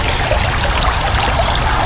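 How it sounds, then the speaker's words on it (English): Steady trickle of water falling from a six-stack fountain into its basin, a continuous close splashing wash with no breaks. "you can see that water is falling very close to it"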